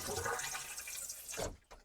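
An RV toilet flushes water down into the holding tank, a close rushing gush that pours steadily for over a second, then cuts off into a brief gurgle.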